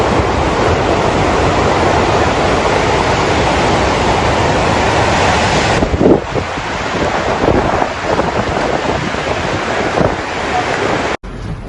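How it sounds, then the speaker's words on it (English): Hurricane Beryl waves crash near a coastal road in Bamboo River, St. Thomas, Jamaica, a loud constant roar of surf mixed with heavy wind buffeting the microphone, surging briefly before cutting off. "Waves are already reaching up to the road."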